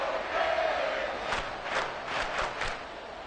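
A stadium crowd at a football game roaring near the goal line, a steady loud wash of cheering and shouting with several sharp bursts of louder noise rising over it.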